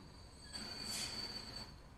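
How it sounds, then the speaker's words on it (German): Trains pulling into Munich station in the rail game Transport Fever 2, a faint steady rolling rumble with a thin high wheel squeal rising briefly in the middle, no talk. "Wenn die hier in München die Züge hier so reinrauschen"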